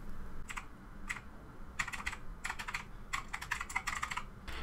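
Keys clatter on a computer keyboard in short, irregular bursts of quick taps, close and fairly quiet, with no one talking.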